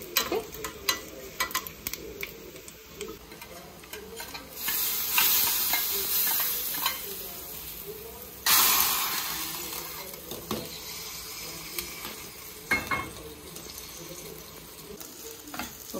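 Ivy gourd (tindora) fries in coconut oil in a pan, a steady close sizzle punctuated by irregular scraping stirs, with louder hissing surges around a few moments, and no talk.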